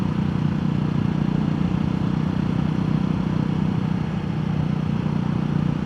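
A Royal Enfield Guerrilla 450 motorcycle fitted with an Arrow aftermarket exhaust rides along, giving a steady, dense low engine drone at constant loudness with no pauses or voices.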